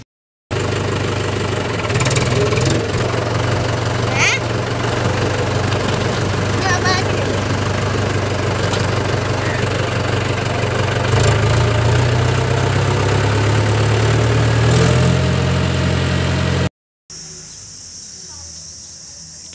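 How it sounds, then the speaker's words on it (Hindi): A tractor engine runs steadily with a low, rumbling throb and a mechanical knock, driven along a village road toward a temple; insects chirp faintly, and the engine cuts off near the end, leaving quieter ambience. "ट्रैक्टर पर चलेंगे दोस्तों।"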